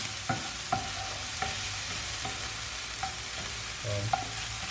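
Bacon fries in butter in a pan with a steady close sizzle, punctuated by a few sharp clicks and pops from the pan at regular intervals.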